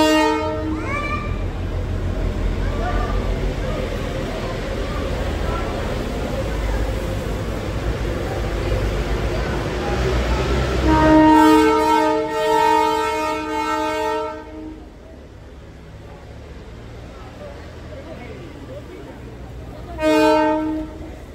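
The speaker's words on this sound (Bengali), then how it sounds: "দার্জিলিংয়ের টয় ট্রেন।" A Darjeeling toy train on the hill railway rumbles nearby, then sounds its horn in long loud sustained blasts, with another shorter horn burst near the end over the low rolling clatter of the cars.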